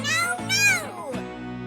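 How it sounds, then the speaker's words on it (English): A cat meows twice in quick succession, close and clear, the calls rising and falling before a held tone continues. "Cat."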